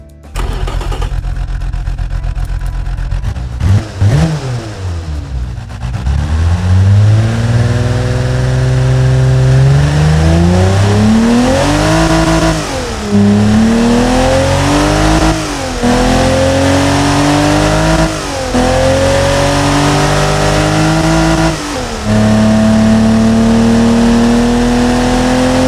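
Simulated BMW S50B30US engine with a tubular 2.8 high-flow straight-through exhaust in the Automation car-building game, starting up then revving repeatedly, each rise and fall of pitch loud and alone with a raspy, buzzy tone.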